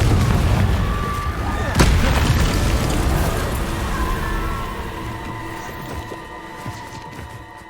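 Confringo fire spell blasts in the Hogwarts Legacy video game: one sharp explosive crack early on, followed by rumbling, crackling fire and layered game effects that slowly fade over several seconds.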